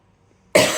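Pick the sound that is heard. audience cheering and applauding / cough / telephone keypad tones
cough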